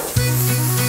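Mushrooms and onions dropping into a hot wok for an Asian beef stir-fry, a sudden loud hissing sizzle that bursts in and holds steady, with a low steady hum beneath.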